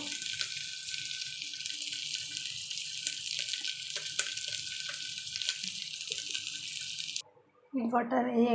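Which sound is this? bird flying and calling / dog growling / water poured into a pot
water poured into a pot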